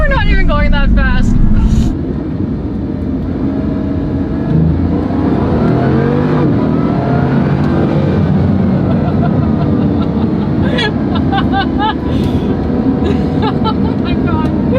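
A Bugatti Chiron in track mode pulls hard under acceleration, its engine note climbing as a loud, sustained roar from inside the cabin, with a voice heard over it at the start.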